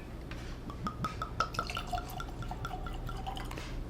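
Gem of Kentucky bourbon whiskey poured into a glass, a close, trickling glug with bright dripping plinks and small glassy rings over about four seconds, no talking.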